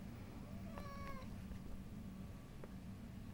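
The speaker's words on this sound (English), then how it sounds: "This is Goldfinger, the cat." A cat meows once, a faint, short, slightly rising call over a steady low room hum, followed by a couple of soft clicks and quiet background.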